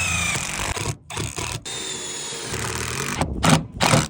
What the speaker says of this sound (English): started drilling the holes and screwing them down.